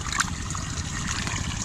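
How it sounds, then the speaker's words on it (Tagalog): Water trickles and gurgles steadily as it pours into a sinkhole on a farm, a close, continuous splashing flow with no one talking. "Nahuhulog dito yung tubig o ayaw lumakad"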